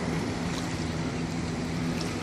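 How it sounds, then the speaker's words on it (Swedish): Boats motoring through a sound near Brønnøya, a steady low engine drone carried over water with wind and lapping waves, constant and moderately distant throughout. "Det går båtar genom sundet hela tiden."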